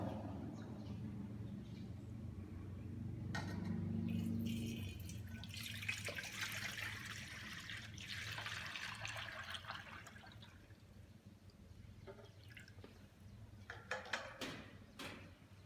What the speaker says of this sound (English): Take basin, pour water.